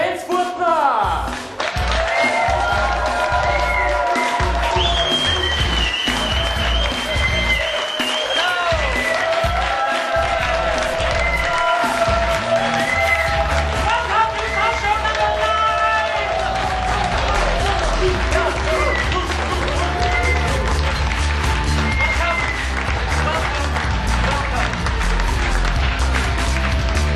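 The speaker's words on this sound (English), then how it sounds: "And now a big fat applause for our host, Johannes Grenzfurtner." An audience gives the host of a live comedy talk show sustained applause and some cheering, loud and steady for nearly half a minute, while upbeat music plays beneath the clapping.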